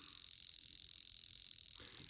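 Cricket-like chirring of a mechanical wristwatch alarm, a continuous high trill that holds steady and close throughout, with a soft low thump near the end.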